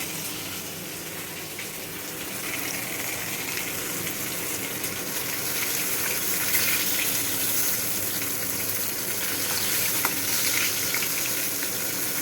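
Rice and fish cook side by side on a home kitchen stove, with a continuous bubbling sizzle and watery hiss that holds steady and grows a little fuller over the stretch. No one speaks.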